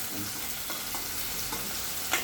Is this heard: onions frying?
yes